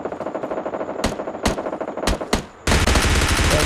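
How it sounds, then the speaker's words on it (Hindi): Bursts of rapid gunfire crackle in a game, several short volleys separated by brief pauses, then a sustained loud barrage of shots at the end. "ऊपर से नीचे तो हर जगह से गोली चलने लगी।"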